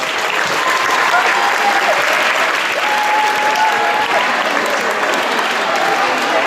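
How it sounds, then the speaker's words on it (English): A school crowd claps loudly and continuously at a medal ceremony for a team placing fourth, with faint voices mixed into the steady applause. "So an applause for the snakes."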